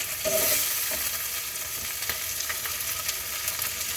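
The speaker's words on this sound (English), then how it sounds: "I'm just kind of stir frying it here" Steady, loud sizzling from beef stir-frying in a hot pan for Filipino bistec, with occasional scrapes and clicks of stirring over the constant hiss.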